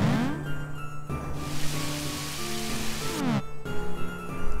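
Rain from the Douse spell in the video game Golden Sun: Dark Dawn, a steady hiss of falling rain over game music, cut by two brief breaks in the rain.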